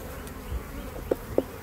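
Honeybees buzzing softly around an open hive during an inspection, a low continuous hum with a few brief louder passes close by.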